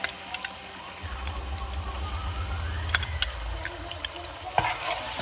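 Haitian seasoning (épices) frying in a pot while being stirred, giving a steady close sizzle with scraping spoon strokes and occasional sharp clinks against the pot, no talk.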